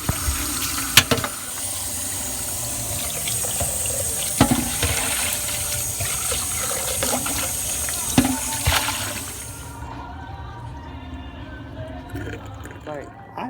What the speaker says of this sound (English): All I'll do is rinse it out.